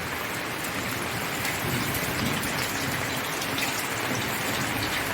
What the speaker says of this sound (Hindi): हमारे यहाँ देखिए बारिश हो रही है